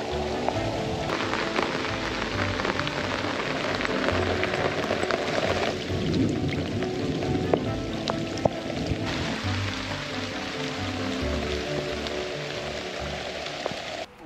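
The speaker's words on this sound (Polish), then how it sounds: "Deszcz spada, ale zobaczcie tam, co się dzieje." Steady rain falls during a thunderstorm at a gravel pit used for carp fishing, a dense continuous patter close by with occasional sharper drips, no voices over it for the whole stretch.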